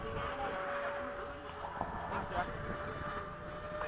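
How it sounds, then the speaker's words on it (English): A Freewing 80mm F-5 RC jet makes a landing gear pass, its turbine-like whine steady and fairly distant throughout, with a faint tonal hum above a diffuse rushing roar. "I'm gonna do a gear pass and land."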